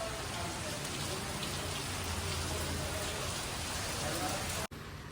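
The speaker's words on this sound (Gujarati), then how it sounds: "ફૂલ વરસાદ પડે ગાડીમાં તો થોડી વાર માટે અંદર કાઢી દીધી છું" Steady, dense monsoon rain at Saputara drums on a car without pause, loud and continuous, ending abruptly with a brief dropout just before the close.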